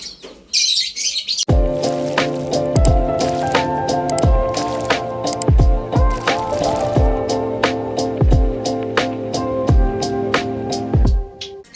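Pet lovebirds chirp in a steady series of sharp, bright, repeated calls, close and loud, over a faint background hum, with no talking.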